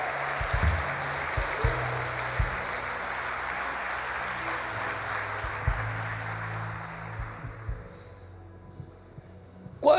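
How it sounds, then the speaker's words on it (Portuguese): A church congregation claps in sustained applause that fades out, dense and steady from a crowd, with a few louder thumps and brief cheers near the end. "Você pode dar uma salva de palmas ao Senhor aí"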